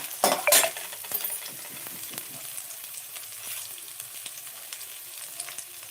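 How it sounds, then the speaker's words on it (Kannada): Urad dal, chana dal, dried red chilies and garlic sizzle steadily in hot oil in a pan, with a louder burst of stirring near the start followed by a continuous soft frying hiss and occasional utensil scrapes. "ಸ್ವಲ್ಪ ಬೆಳ್ಳುಳ್ಳಿ ಇಷ್ಟು ಹಾಕೊಂಡಿದ್ದೀನಿ ಇದು ಸ್ವಲ್ಪ ಫ್ರೈ ಆಗಲಿ"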